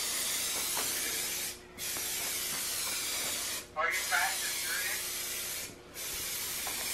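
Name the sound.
spray painting a Mazda Miata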